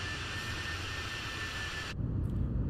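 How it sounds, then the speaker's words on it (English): Airbus A320 jet engines in Microsoft Flight Simulator on approach to landing, a loud steady whine and broadband roar with a high tonal note that cuts off abruptly near the end, leaving lower rumble. "Listen to those engines whining."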